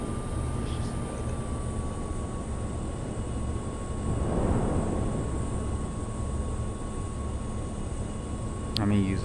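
An aircraft rolls along a runway in the VRChat game, a steady broad engine roar with a faint tonal whine holding at an even level the whole time, close and continuous.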